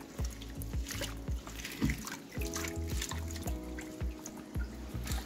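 Water sloshes and splashes in a basin as fresh basil leaves are rinsed, swirled and handled, with repeated soft surges of movement and no talking.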